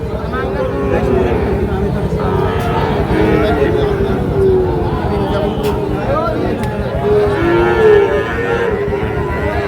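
Cattle low loudly and repeatedly at the crowded Ambari cattle market, deep drawn-out moos overlapping one another with a murmur of people's voices underneath.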